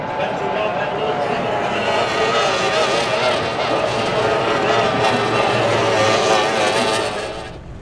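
Roaring high-revving engines of racing powerboats, including Formula One, Formula Light and tri-hull boats, drone continuously and loudly, a dense wash of motor noise with no pauses, likely several craft racing together on a river.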